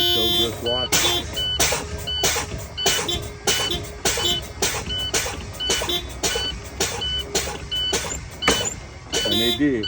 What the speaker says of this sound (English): now I'm gonna fan down to approximately 40, and my parking brake will release